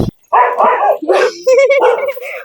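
A dog barks and yips in a few short bursts nearby, mixed with a person's voice talking over and between the barks.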